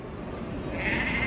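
Sheep and lambs bleat at a livestock market, a short wavering bleat rising near the end over crowd murmur and background noise.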